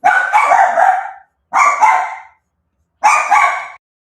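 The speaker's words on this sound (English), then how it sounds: "And I have a rowdy dog." A rowdy dog lets out three loud, drawn-out barks at close range. Each lasts about a second, with short silent pauses between them.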